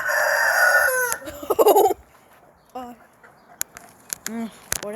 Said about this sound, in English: the hens are making noise, and the rooster too